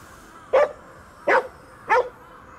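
A dog in the video game Ghostwire Tokyo barks three times at a steady, evenly spaced rhythm, each bark short, sharp and fairly close, with no talking around them.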